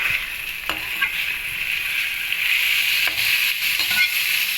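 One kilogram of boneless chicken fries in a pan with a loud, constant hiss and sizzle, broken by a few faint scrapes of stirring.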